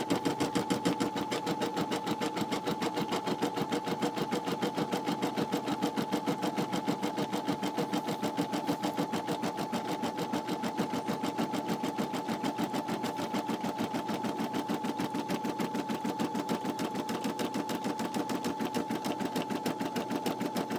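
A Brother SE600 embroidery machine stitches felt with a steady, rapid mechanical chatter, a constant even rhythm of needle strokes with a faint hum running the whole time, close and unbroken.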